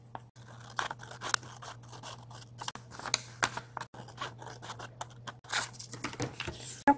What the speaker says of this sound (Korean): 이 선을 따라 가위로 잘라줍니다.